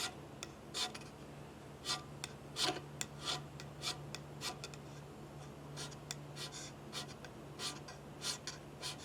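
Hand scraper stroking across a machined metal surface, cutting off fine powder: a series of short, crisp rasping strokes at an irregular pace, close and fairly quiet over a steady low hum.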